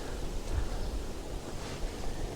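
Steady wind from a sudden snowstorm rushes and buffets the microphone in a broad, even hiss with low rumbling gusts, and no voices come through.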